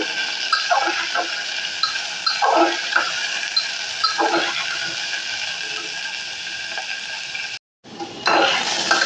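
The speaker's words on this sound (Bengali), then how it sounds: "আমি গাজরটাকে একটু ভালো করে নেড়ে চেড়ে ভেজে নেব" Grated carrots for carrot halwa stir-fried in a pan, with a continuous sizzle, repeated scraping stir strokes every second or two, close by, and a brief cut near the end.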